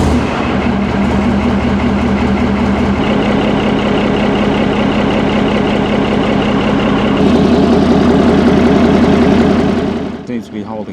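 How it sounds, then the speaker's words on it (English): A Chieftain tank's heavy diesel engine idles steadily with a deep, loud rumble that shifts pitch slightly partway through, then cuts off near the end. "I need to run the engine, build up pressure"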